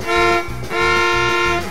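At a family Christmas stage show, a performer imitates a pickup truck horn with two loud, close honks, the second longer than the first, heard alone.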